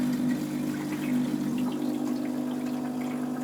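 A steam iron pumps water from a nearly empty tank, a steady mechanical pumping hum with a faint watery gurgle running throughout, constant and close, with no voices.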